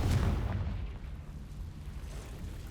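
A Confringo spell blast in the Hogwarts Legacy video game inside a cave, a loud low booming burst that peaks at once and then fades into a rumbling tail lasting a couple of seconds.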